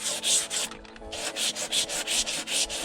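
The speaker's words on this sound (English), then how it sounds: "We're just gonna sand it off. Go along the edges." Hand sanding along the painted edges of a wooden farmhouse coffee table, with steady rhythmic back-and-forth rubbing strokes, close and fairly loud, a brief pause near the start, no talking.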